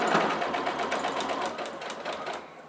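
A sewing machine stitching a school pencil case, running in a fast, steady, close whirring chatter that stops abruptly near the end, with no speech.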